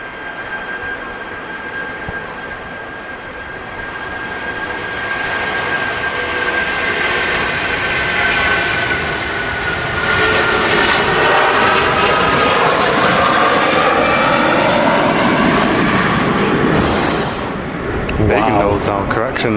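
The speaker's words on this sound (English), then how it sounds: "a good, lovely loud sound as well on the departure. The Wamos A330-200" A Wamos Air A330-200 jet departs with a loud, sustained engine roar that builds and holds throughout, its pitch sweeping as it passes, while voices chat over it near the end.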